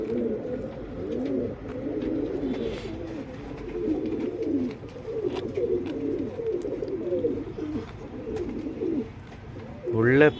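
Pigeons, a good-lineage male among them, coo in repeated low throaty phrases throughout, close and moderately loud, while someone talks over them.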